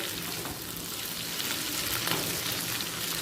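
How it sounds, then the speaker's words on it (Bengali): Green chillies cut at a slant sautéing in oil in a pan over a medium flame, a steady close sizzle with no break. "মিডিয়াম ফ্লেমে ঠিক তিন থেকে চার মিনিট ভেজে নেব"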